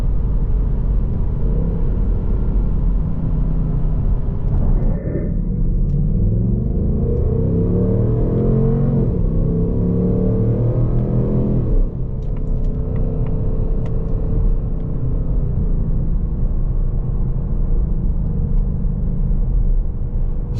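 A 2024 Ford Mustang GT Premium rumbles loud and close, its deep steady engine note swelling with revs through the middle and settling back, with no talk over it.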